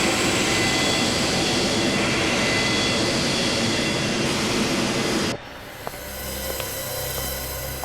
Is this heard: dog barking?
no